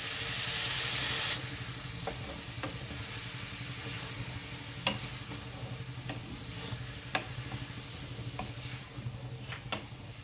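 Ground spice paste of coriander, cumin, chili and fennel sizzles steadily in hot oil, a constant frying hiss with scattered clinks and taps of a utensil against the pan, cooking singi fish curry.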